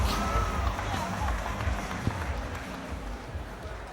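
Crowd at a UCMMA mixed martial arts event applauds and cheers as a fighter gets back to his feet, a steady roar of clapping and voices filling the hall with a commentator speaking over it.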